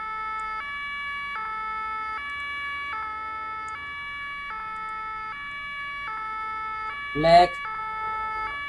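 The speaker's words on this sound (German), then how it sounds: "Ich kann auch Sirene anmachen." Emergency vehicle siren in the Roblox game Berlin V3, a steady two-tone wail repeating evenly and loudly across the whole stretch, with one brief spoken word near the end.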